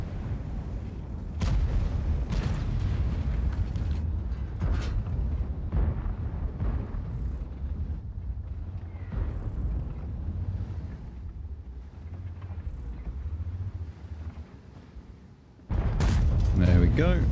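Tank cannon shots in World of Tanks fired from a buffed AMX M4 54 heavy tank, several heavy booming blasts spread through the clip, the loudest near the end, over a constant low engine rumble with a voice talking throughout.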